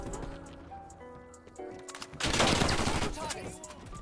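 Gunfire in Call of Duty: Cold War, a dense burst of rapid shots rising loudly after quieter game sounds, with voices talking faintly beneath.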